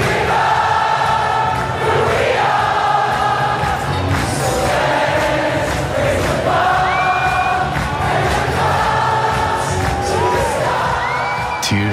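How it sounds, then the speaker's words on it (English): A large concert crowd sings along to a song in unison, a loud, sustained mass of voices with rising melodic lines and scattered cheers carrying across the whole twelve seconds. "So the crowd started singing."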